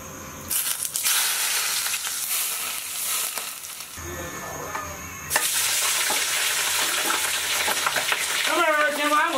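Fatty pork frying in hot oil in a wok gives a loud, steady sizzle with stirring scrapes, swelling louder midway as more meat hits the oil, with no talking over it.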